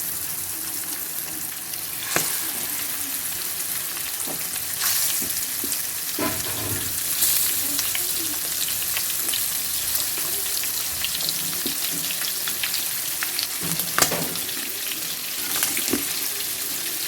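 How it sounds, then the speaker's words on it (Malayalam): Fish dropped into hot oil for frying, a loud continuous sizzle and crackle lasting throughout, close up, with occasional clinks and stirring knocks and no talk. "നമുക്ക് മീൻ ഇട്ട് കൊടുക്കാം."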